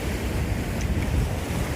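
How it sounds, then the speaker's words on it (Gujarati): Sea waves roll onto the shore at sunset, a continuous low rushing surf mixed with wind across the microphone, steady and fairly close. "અને જો અહીંયા કિનારે આરે મોજા ટકરાય ને"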